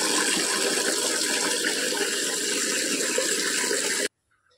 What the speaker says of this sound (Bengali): কলের জল পড়ছে। এতগুলো বালতি ভর্তি করতে হবে।